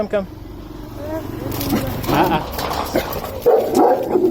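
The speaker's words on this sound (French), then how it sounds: "C'est un autre chien." A dog barks and yips a few times at moderate distance with whimpering mixed in, while people talk nearby and a car passes in the background.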